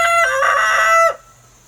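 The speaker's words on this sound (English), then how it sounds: "He's a pretty rooster. He's just learning to crow." A single loud crow from a young barred rock and buff Orpington cross rooster still learning to crow, close by and a little ragged, rising and holding before breaking off abruptly, with a low steady hum underneath.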